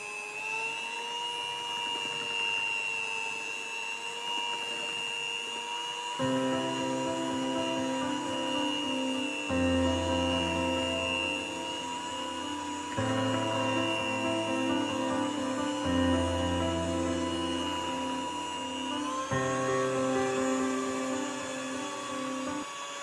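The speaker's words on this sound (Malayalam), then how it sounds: "അങ്ങനെ പഞ്ചസാരയും ബട്ടറും ഒക്കെ നന്നായി ബീറ്റായി." An electric mixer whirs steadily while beating sugar and butter for a banana and chocolate cake batter, its motor pitch shifting between speed settings in long sustained stretches, close and alone.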